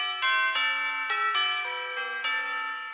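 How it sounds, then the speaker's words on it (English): Tubular bell voice on a Yamaha Genos 2 keyboard plays a descending run of six ringing chime notes, each struck clearly and sustaining into the next, alone and fairly loud. "Tubular Bell on"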